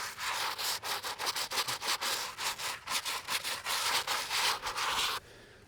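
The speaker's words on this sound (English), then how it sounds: "if you're scrubbing these markers, you don't have to scrub hard. Let the bristles do the work." Bristle brush scrubbing a cemetery headstone at Natchez City Cemetery, a close, steady series of rhythmic rasping strokes, roughly two per second, lasting about five seconds before stopping.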